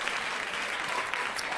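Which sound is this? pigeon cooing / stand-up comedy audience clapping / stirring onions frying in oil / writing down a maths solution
stand-up comedy audience clapping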